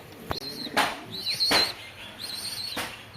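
Pigeons flap their wings in about four sharp, close bursts spaced across a few seconds, with faint whistling bird sounds between them and no talking.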